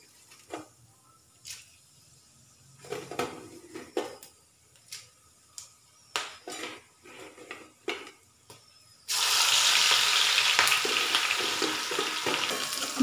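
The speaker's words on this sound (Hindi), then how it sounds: "तेल मेरा अच्छे से गर्म हो गया है, अब मैं सारे मसाले इसमें धीरे धीरे करके ऐड कर दूँगी।" Spices added gradually to hot mustard oil: a series of short, separate sizzles and stirring clinks, then a loud, steady, continuous frying hiss as everything hits the pan. Close and unvoiced throughout.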